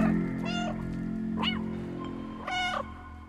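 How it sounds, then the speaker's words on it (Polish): A small cat in the video game Stray meows several times in short, rising-and-falling calls over a steady low ambient hum, fairly close and clear with no talking. "Zapomniałem, kurde, że miauczenie zwraca na mnie uwagę."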